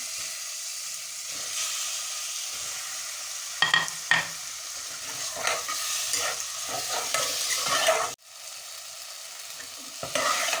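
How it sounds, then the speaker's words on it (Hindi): Boneless chicken frying in a pan with onion and ginger garlic paste, a steady soft sizzle broken by scraping stirs and a few louder clatters, close and alone without talk. "चिकन हमारा फ्राई हो गया।"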